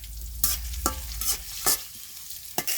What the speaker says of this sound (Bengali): আর একটু পেঁয়াজ দিয়ে দেই।